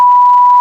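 A steady single-pitched censor bleep runs for under a second, loud and alone, cutting off cleanly at both ends.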